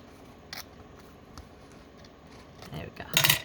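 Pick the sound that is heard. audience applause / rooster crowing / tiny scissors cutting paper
tiny scissors cutting paper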